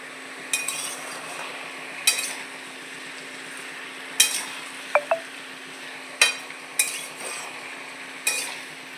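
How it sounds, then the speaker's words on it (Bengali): A pot of potato and pumpkin vegetable curry cooks on a stove, holding a steady soft sizzle while a metal spoon scrapes and clinks against the pan in repeated sharp strokes every second or two, with no talk. "তরকারি চাপিয়েছি"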